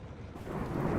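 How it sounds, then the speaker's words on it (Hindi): Thunder rumbling during heavy rain at a campsite, a deep rolling boom that builds over a second amid the wash of rain, with no voices. "ये बिजली बहुत ज़बरदस्त कड़क रही है।"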